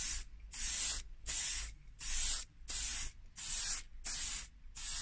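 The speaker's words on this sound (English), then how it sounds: "6 inches away from what you're spraying." A spray gun lays paint on a K11 centre fascia in seven even, evenly spaced bursts of loud hissing, each stroke separated by a short near-silent pause.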